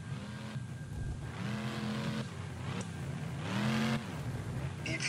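A monster truck engine at a fairgrounds event revs in repeated surges, rising and falling several times over a few seconds, loud and fairly close, with a crowd or announcer faintly beneath.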